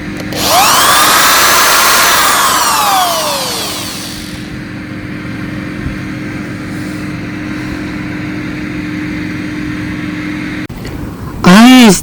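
A power tool whines loudly at first as it drives a long, thick bolt into wood in a garden, then settles into a steady hum before a short final high-pitched burst.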